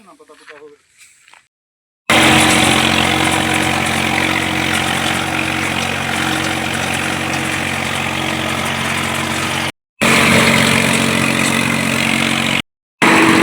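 A Mahindra Novo 4x4 tractor engine runs steadily at a loud, close idle with a deep rumble and slight revving, after a brief moment of quieter sound at the start and a couple of short dropouts.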